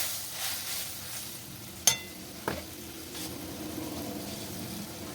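Bitter gourd pieces fry in ghee in a pan with a soft, steady sizzle, broken by a couple of sharp clinks of a utensil early on.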